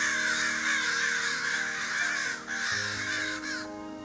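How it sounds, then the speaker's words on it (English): Crows caw their funeral calls just after dawn, a dense overlapping chorus of harsh repeated caws carrying steadily from a moderate distance, with no voices. "I could hear the crows calling, making their funeral cries that they make when they see a dead crow."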